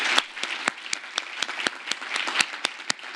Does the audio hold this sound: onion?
no